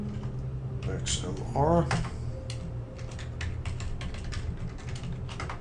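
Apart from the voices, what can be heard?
typing an IP address on a computer keyboard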